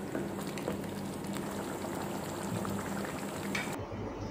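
Mutton liver gravy boils in a pan after a tumbler of water is added, giving a steady, close bubbling and sizzling hiss that runs unbroken throughout.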